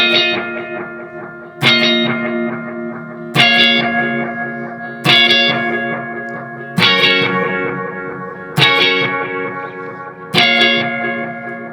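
Clean-channel electric guitar run through a pedal board with effects, playing chopped chords: seven loud, evenly spaced strummed hits roughly every 1.7 seconds, each ringing out and decaying, with no talk.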